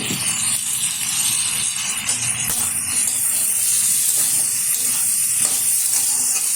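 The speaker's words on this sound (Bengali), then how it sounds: "দিয়ে দিচ্ছি টুকরো করে রাখা আলু।" Chopped potatoes tumble into a pot of chicken stew, setting off a steady bright sizzle and hiss of steam that holds throughout, close and fairly loud with no voices.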